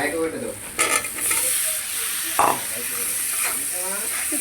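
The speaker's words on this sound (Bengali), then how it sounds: "পেঁয়াজ হলুদ মরিচ লবণ দিয়ে মশলাটা কষিয়ে আমার ভেন্ডিটাকে একটু হালকা ভেজে নিই" Okra frying in a pan with onion, turmeric, chili and salt, giving a steady bright sizzle and hiss with occasional stirring scrapes and clinks, close up and loud throughout with no talking.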